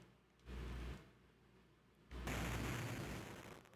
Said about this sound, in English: The dynamite made quite an explosion.